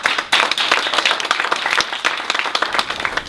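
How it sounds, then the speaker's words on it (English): An audience gives panelists at a dialogue on the school-to-prison pipeline a round of applause, dense and lively clapping with sharp individual claps, loud and sustained throughout. "Let's give our panelists another round of applause."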